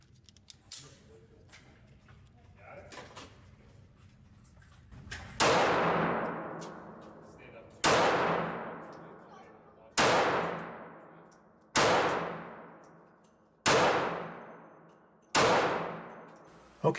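Six sharp shots from a Taurus Spectrum .380 semi-auto pistol fired at 25 feet, spaced about two seconds apart, each loud crack ringing out and decaying, following a quiet stretch of faint handling noise.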